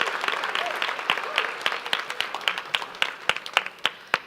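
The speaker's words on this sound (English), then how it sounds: "Can I hear a round of applause if you will join us?" An audience at a Dallas civic event breaks into applause, dense clapping that thins out into a few louder individual claps as it fades.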